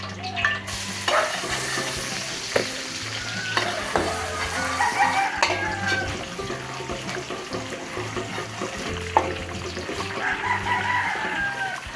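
Garlic sautéing in hot oil in a pan for Filipino chop suey, a steady loud sizzle with stirring scrapes and occasional utensil clacks throughout, with a rooster crowing faintly in the background.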